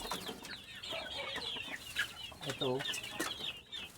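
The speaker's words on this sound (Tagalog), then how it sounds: "Magpakain natin ng manok mga idol kasi alas 7 na mahigit." Chickens clucking close by at morning feeding time, with busy overlapping bird calls and brief clucks throughout, under a short spoken word.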